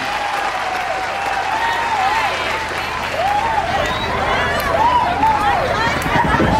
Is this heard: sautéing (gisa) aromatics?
no